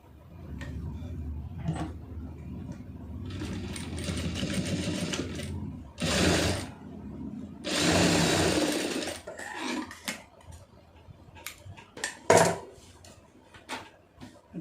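Sewing machine stitching the back of an Aari-work blouse, heard in several close, loud bursts of rapid mechanical whirring separated by pauses and handling clatter.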